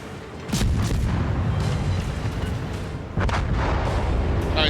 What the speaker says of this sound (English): Want to fire torpedoes again